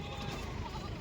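A goat gives a short, quiet bleat against a murmuring background of a busy Saturday village market.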